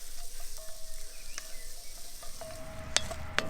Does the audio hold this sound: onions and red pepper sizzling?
yes